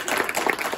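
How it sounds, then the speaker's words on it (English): Brief burst of applause for Rashonda, a recent high school graduate, at a public health agency event on child literacy in Napa, a short steady patter of clapping hands. "so can we please give her a round of applause?"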